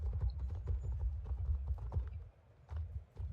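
Horse hooves clip-clop steadily and close by during a ride in the video game Star Stable, with an occasional whinny over a low, throbbing background.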